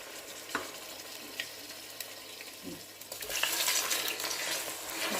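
Meat for kebab sizzles and fries in a pan while a utensil stirs it, with scattered scraping clicks; the frying swells louder and hissier toward the end, with no talking.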